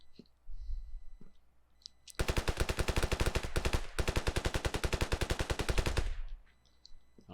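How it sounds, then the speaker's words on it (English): Automatic gunfire from a gun in the video game Ravenfield: two long, rapid bursts of evenly spaced shots, the first about a second and a half, the second over two seconds, fairly close and loud with brief quiet before and after. "I don't even know why I'm shooting."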